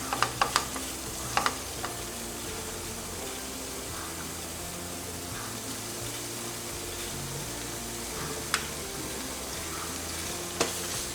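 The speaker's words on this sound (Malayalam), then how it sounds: "ഇതും നന്നായിട്ടൊന്ന് മിക്സ് ചെയ്തെടുക്കാം." Egg biryani masala with chopped coriander and mint being mixed in a pan, with a few sharp spoon clinks at the start and two more later over a faint, steady background sizzle.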